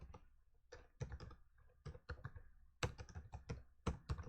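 Steady bursts of clicking keystrokes on an English-layout computer keyboard, typed in quick irregular runs with short pauses, close and fairly quiet, with no talking.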